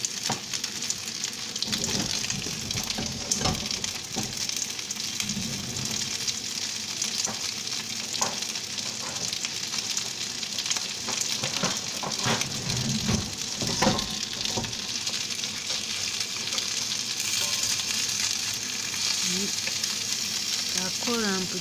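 Japanese gyoza frying in a pan: a loud, continuous sizzle with intermittent clatters and scrapes from the spatula or pan, close by throughout.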